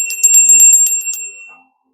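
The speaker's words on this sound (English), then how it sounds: "We're going to ring the bell here to clear these energies." A small metal bell rung rapidly about ten times, bright and ringing, then fading out into silence after about a second and a half; no voices.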